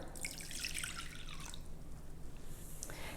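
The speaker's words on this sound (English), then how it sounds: "And so I'm going to put in the vinegar" Vinegar poured for a cucumber salad, a steady close trickle of liquid splashing and dripping into a container, alone with no voices.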